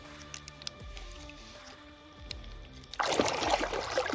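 A crappie released from a dock at night slaps into the water with a sudden, close splash and a burst of churning, sloshing water after several seconds of quiet dripping and handling sounds.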